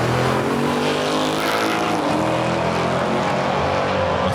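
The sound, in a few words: drag racing car engine sound effect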